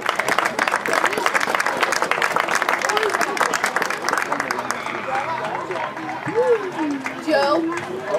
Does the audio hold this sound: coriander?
no